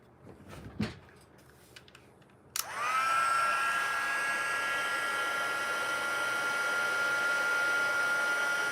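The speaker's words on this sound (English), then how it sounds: "Bring in the heat tool." A heat tool for crafting switches on with a sharp click and then blows a loud, steady whoosh of hot air with a whining tone, following brief handling noises at the start.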